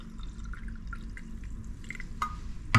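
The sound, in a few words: pouring carbonated water into a glass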